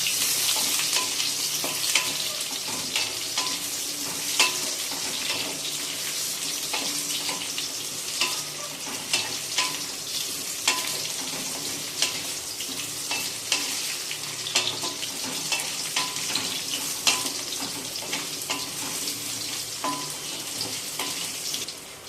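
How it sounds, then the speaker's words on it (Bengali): Sweet potatoes stirred in a pan for Bengali shukto, a dense steady sizzle over about twenty seconds with frequent small spatula clicks and scrapes, close and fairly loud, no voices. "এটাও একটু ভালো করে নাড়াচাড়া করে নেব।"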